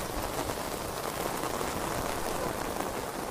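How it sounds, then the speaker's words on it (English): Heavy rain pours steadily onto a wet race track, a dense, continuous hiss of drops close by with no pauses, loud and unbroken from start to finish. "as the rain gets heavier and the track becomes even wetter"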